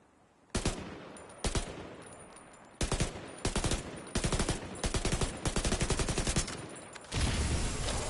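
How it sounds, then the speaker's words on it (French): Gunfire in The Division 2 video game as a light bulb is shot: loud broadband bursts of shots, single blasts then rapid strings of automatic fire, ending in a sustained louder burst, with no talking. "Je vais tirer sur l'ampoule."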